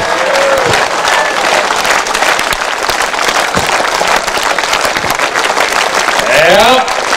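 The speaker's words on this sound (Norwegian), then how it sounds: "Applaus på en måte" Applause from a small group cheering a child named Emil at a climbing session, clapping scattered and uneven, mixed with voices and brief shouts, close and fairly loud throughout.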